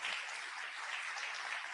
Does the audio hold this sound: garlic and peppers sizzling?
no